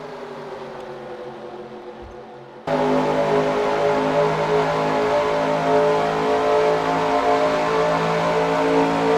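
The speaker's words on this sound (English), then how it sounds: "Green flag, we're back to racing." NASCAR Cup Series race cars roar at Daytona during the Busch Clash restart; after a quieter stretch the engine noise jumps suddenly to a dense, loud, sustained drone of the pack racing.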